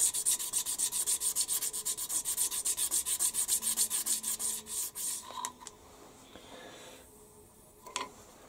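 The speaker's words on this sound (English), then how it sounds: "Little oil stone that fits in there nicely." A small oil stone rubbed back and forth over a metal tooling plate for a mill makes a fast, regular scraping rhythm of about twenty strokes, then stops, followed by a few light clicks.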